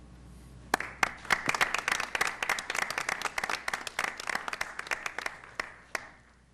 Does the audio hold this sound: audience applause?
yes